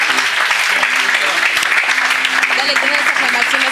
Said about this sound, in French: Donne une grande acclamation à Jésus-Christ.